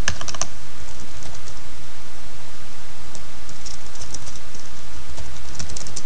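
Keys clatter on a computer keyboard in quick bursts of close, crisp taps at the start and near the end, with a steady low hum beneath and no talking.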